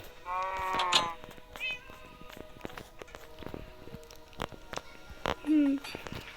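A cat in a video game meows several times, brief and slightly electronic, over light pattering footsteps and soft clicks; a voice speaks briefly alongside.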